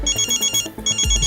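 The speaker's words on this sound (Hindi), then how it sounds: "हाँ, जीत, उसको कॉल करती हूँ।" Ringback tone of an outgoing phone call: a bright electronic ringtone pulsing in quick repeated bursts, loud and close, with no voices.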